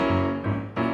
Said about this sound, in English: We get this melodic bass lead up that is really addicting to play.